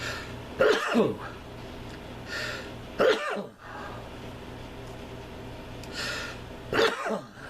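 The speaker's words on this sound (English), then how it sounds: "I don't mean to sneeze like that" Three sharp sneezes or cough-like bursts spaced a few seconds apart, each a sudden loud explosive burst over a quiet background.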